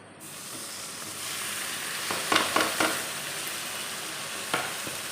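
Onions, tomatoes, green chili and garlic fry in a pan for dry fish curry, giving a steady soft sizzle broken by a few scraping stirs partway through, with no talking.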